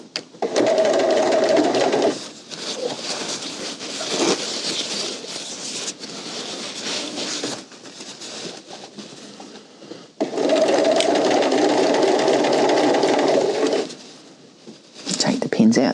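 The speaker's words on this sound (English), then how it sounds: "move my needle position over, and we'll stitch the bottom edge." A sewing machine runs in two long, steady bursts of stitching along the bottom edge of a tote bag, loud and close, with quieter pauses and handling between runs.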